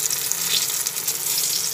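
Eggplant slices fry in hot oil in a pan, giving a steady, close bright sizzle and crackle that holds evenly throughout with no speech.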